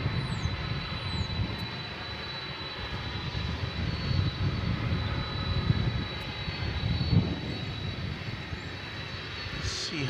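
A Boeing 747 at DFW Airport is pushed back and warms up. Its jet engines give a steady distant roar with a faint high whine, broadband and unbroken, with no talking.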